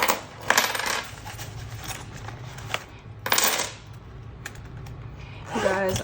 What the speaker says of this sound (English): let me go ahead and get my coins out.